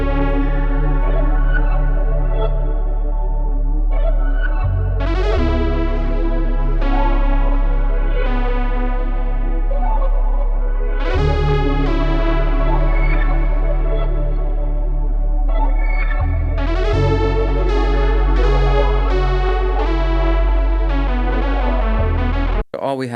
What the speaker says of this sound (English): I have this Prophet 6 lead sound come